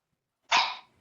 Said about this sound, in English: That would be my dog.